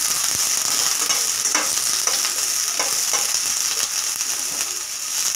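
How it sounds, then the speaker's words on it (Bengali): Chopped medium onions crackle and sizzle in hot oil in a pan for a Bengali-style matar paneer, a bright, steady frying hiss with occasional scraping stirs. "ওই তেলে দিয়ে দেব 2 মিডিয়াম সাইজ কুচানো পেঁয়াজ"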